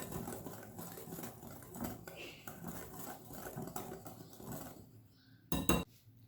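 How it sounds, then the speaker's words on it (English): A whisk stirs eggless chocolate sponge cake batter in a bowl, giving a steady, close scraping and light clinking that runs continuously before a brief louder clatter near the end. "Mix everything with the whisk."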